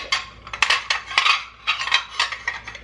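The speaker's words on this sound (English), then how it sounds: "These are the dishes that we feed the dogs food on" Metal dog food dishes clink and clatter repeatedly in an indoor home, a series of bright, close knocks and rattles in uneven bursts with no voices.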